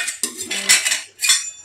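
A metal cake pan for a banana cake being set onto a stand inside a preheated pot, producing a few sharp metallic clanks and scrapes in quick succession, close and fairly loud.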